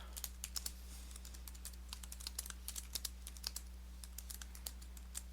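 Someone types a quick note on a computer keyboard, a steady patter of light key clicks at an irregular brisk rhythm, close and clear over a low electrical hum.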